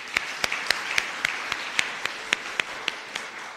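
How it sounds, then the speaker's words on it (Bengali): A church congregation applauds the fathers with a run of sharp, evenly spaced claps, about a dozen distinct slaps in a steady rhythm, close and clear with no talking. "পিতাদের জন্য একটু অন্তত হাততালি দিই"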